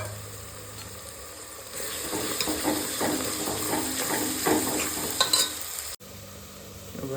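Chopped chillies hit hot oil among onions for Gujarati pulao, bursting into a loud, steady sizzle with scraping stirs and crackles that ends abruptly.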